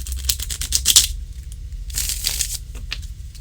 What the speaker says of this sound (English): Let's do a shuffle. And then I will spread and pull.